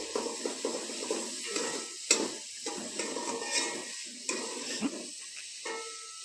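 Onions frying and browning in a pan while being stirred, with a soft steady sizzle under repeated scraping strokes of a spoon, close by, no talk.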